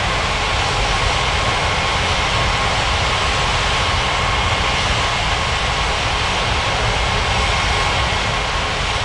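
Steady airliner engine roar from a plane on approach to land at Ngurah Rai Bali International in the Unmatched Air Traffic Control game, loud and continuous with no talk over it.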